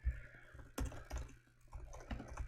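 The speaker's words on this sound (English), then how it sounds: "I'll type it in." Typing on a computer keyboard, heard as a few soft, irregular clicks and taps up close in a quiet room.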